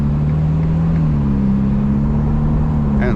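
A 2022 Ferrari Portofino turbo engine heard from inside the car while driving near Maranello, a steady loud drone with a low tonal hum throughout.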